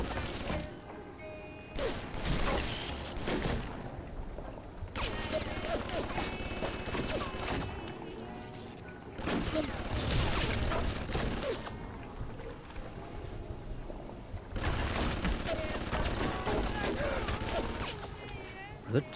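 Bursts of turret gunfire with clanking mechanical noise in BioShock Remastered, several loud stretches of rattling fire separated by calmer moments, with a person talking throughout.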